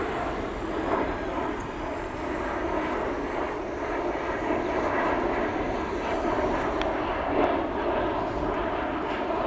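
Fairy Air selfie drone flying and drifting, a steady loud whirring buzz of small propellers that holds constant for the whole stretch, close by and uninterrupted, with no speech.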